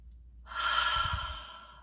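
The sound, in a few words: deep breathing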